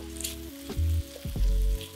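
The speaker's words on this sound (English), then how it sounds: "onion pepper is gonna hit the tomato paste" Oily onions and peppers sizzle as they hit tomato paste in a pan for sausage and peppers, a steady close frying hiss with a few dull clunks from a utensil stirring, no voices.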